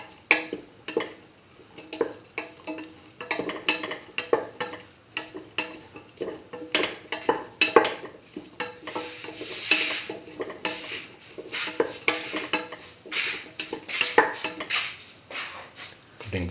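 A spoon stirring cumin tomato rice in a pot, producing a steady run of scraping, ticking contacts close by, sometimes over a soft sizzle, with no talk.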